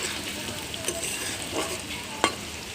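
Cut potatoes fry in a pan, giving a continuous close hiss of hot oil with a few sharp clicks from a utensil stirring them.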